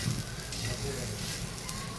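Garlic cloves roast in oil with plenty of salt, giving a faint, steady crackling sizzle up close, with a voice speaking softly over it.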